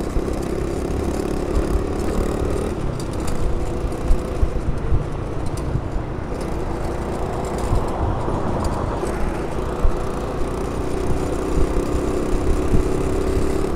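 A 2009 SYM Symba small motorbike rides through New York City streets on an evening trip toward the Manhattan Bridge, its small engine droning steadily amid surrounding traffic noise, no talking heard.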